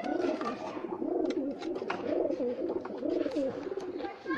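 A newly acquired pair of pigeons cooing up close, with repeated soft rolling coos in a steady rhythm over a low background hum and faint chirps.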